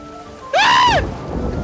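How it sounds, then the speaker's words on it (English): A sharp lightning strike in the pirate video game Sea of Thieves rings out as a sudden loud crack with a bright rising-and-falling tone, then trails into a low rumbling wash. "Did you get hit by lightning?"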